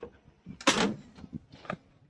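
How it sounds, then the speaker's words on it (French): A Ford Mustang coupe's door slams shut with a loud, metallic clunk, followed by a couple of softer knocks and rattles nearby. "ce bruit de ferraille quand on ferme la porte"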